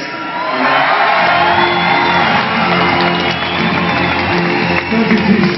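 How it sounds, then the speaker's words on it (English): A large crowd cheering at the Giro d'Italia in Belfast, a loud, sustained roar of whoops and shouts with whistles that holds steady for several seconds, with no clear speech. "Nicolas Roche, said he was left speechless by the crowd's response tonight."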